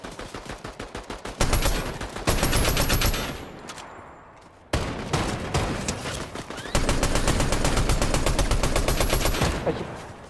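Rapid automatic gunfire rattles in bursts in a shooting video game, loud and close, with a short lull midway before sustained firing resumes.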